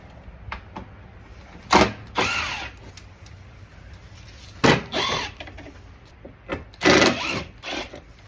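Close, loud whirring bursts from a T25 driver come as a Porsche Cayman underbody panel is removed, several spaced runs of a second or so with faint clicks and handling noises between them.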